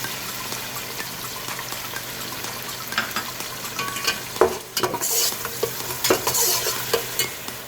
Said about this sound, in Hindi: और इसी स्टेज पे मैं ये अदरक लहसुन का पेस्ट डाल दूँ।